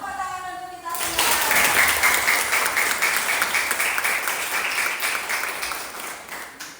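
Group applause from a class of students at a vocational high school session, starting abruptly after a second of a voice and then sustained, dense and loud clapping that slowly tapers.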